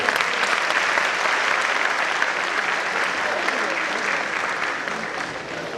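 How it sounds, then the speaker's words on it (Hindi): Sustained applause from a seated audience in an auditorium at a bhajan evening for a 75th-anniversary celebration, a dense, steady wash of many hands clapping for several seconds, loud and close, gradually easing slightly toward the end. "एक बार फिर से जोरदार तालियां।"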